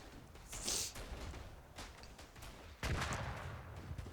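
Gunfire in the World War I shooter Verdun on a front-line battlefield: a few sharp, booming shots stand out, with the loudest near the start and two-thirds through. A constant rumble of distant battle noise runs underneath.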